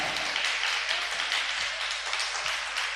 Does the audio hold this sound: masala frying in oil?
no